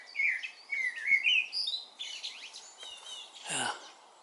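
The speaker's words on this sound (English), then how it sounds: "the song of the blackbird." A blackbird sings its spring song outdoors, fluting warbled phrases in a few bursts with brief gaps, fairly close and clear, ending in a short harsher call, with no talk over it.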